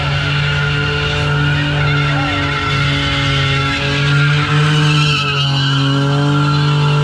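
Car doing a burnout on a burnout pad at a Bradenton car event, loud continuous tire squeal over a roaring engine held at steady revs for the whole stretch, close and unbroken with no speech.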